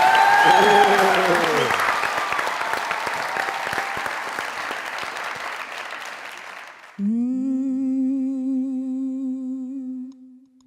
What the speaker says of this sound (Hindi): हमारे शो में एक बार जोरदार तालियां बजाइए।